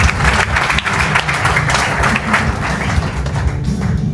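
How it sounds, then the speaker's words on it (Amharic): A church congregation gives loud, sustained applause in praise during a worship service, with dense overlapping clapping that fills the hall continuously for several seconds. "አጨብጭቡ ለእግዚአብሔር ክብር።"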